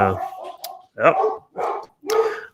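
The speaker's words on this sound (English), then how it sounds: "dogs going off" Dogs bark close by in several loud, clipped bursts separated by short pauses, repeating across a few seconds.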